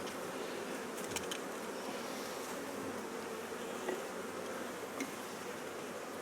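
Honeybees buzz continuously in a hive box after a queen has been added to unite the colony, a close, steady drone with no voices.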